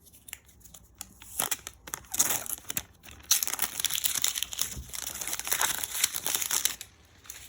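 Paper or cardboard pull tab on a MacBook Air power adapter box torn open, a burst of crinkly ripping and crumpling up close that starts in short tugs and then runs as one continuous tear.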